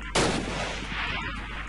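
A single sharp gunshot from a modded gun in Minecraft with Flan's Mod, a loud burst with a short rumbling tail, alone without talk.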